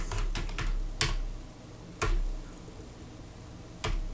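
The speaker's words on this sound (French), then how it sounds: "Alors, on tape l'IP" Someone types an IP address on a computer keyboard, producing a few sharp, close key clicks in uneven bursts with short pauses between them and no speech.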